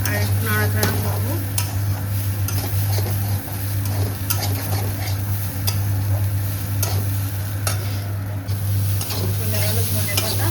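Curry being stirred in a frying pan, with a steady sizzle, repeated scraping and clicking of the spoon against the metal, and a constant low hum underneath, close and continuous.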